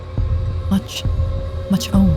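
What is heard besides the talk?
heartbeat sound effect in animated horror story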